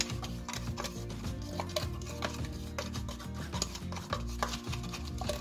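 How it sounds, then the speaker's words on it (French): Cake batter for an apple and almond moist cake being whisked by hand, a close rhythmic rubbing and scraping of the whisk against the bowl, rapid and continuous with small irregular knocks. "Je mélange de nouveau au fouet."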